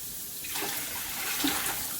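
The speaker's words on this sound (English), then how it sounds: "I'm going to add in all the water." Eight cups of water pour into a pot of chicken to make stock for chicken and dumplings, a steady splashing rush that starts after a brief pause and continues evenly without speech.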